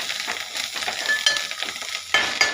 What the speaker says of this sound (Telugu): బాగా ఫ్రై అయ్యింది చూడండి ఇది ఆయిల్లోనే ఫ్రై చేసుకున్నాను